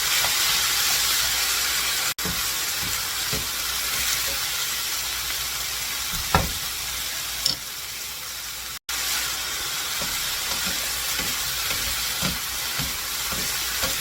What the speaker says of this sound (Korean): 조금 볶다가 이제 깨소금 넣고 마무리 할 겁니다